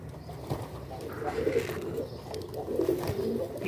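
Soft, low pigeon coos repeat a few times on a rooftop against a steady background hum, with rustling moments between the calls.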